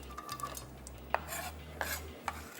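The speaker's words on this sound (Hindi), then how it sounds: "इसमें ऐड कर देते हैं ये चॉप प्याज। थोड़ा सा इसको फ्राई होने देते हैं" Chopped onion frying in a pan for reshmi chicken pasta, with a low steady sizzle and a few light clinks and scrapes of a spoon against the pan, close and without talk.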